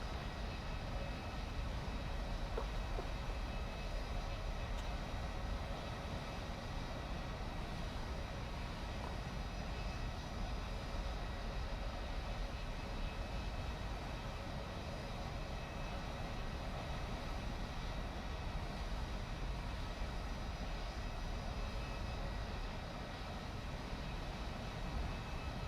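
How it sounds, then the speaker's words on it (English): Fighter plane engines drone as a constant, dense roar throughout a War Thunder match, steady and loud with no breaks and no talk. "A lot of planes in front of us."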